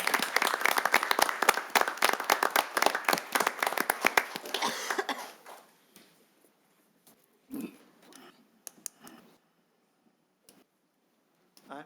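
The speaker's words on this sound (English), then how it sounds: "How about a round of applause" Audience applause at a Sterling Heights city council meeting, a loud burst of many clapping hands that fades out after about five seconds, followed by scattered claps, a cough and quiet room noise.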